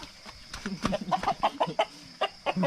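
A chicken clucks repeatedly in short, rhythmic bursts, close and moderately loud, with some faint background noise.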